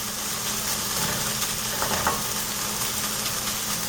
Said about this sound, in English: So I'm going to toss it and cook it